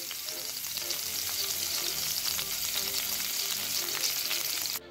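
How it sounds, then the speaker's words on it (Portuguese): Thinly sliced garlic cloves fry in a pan, giving a loud, continuous, crackling sizzle close up with no voices, which stops abruptly just before the end. "Colocar o alho e deixar alourar um pouco."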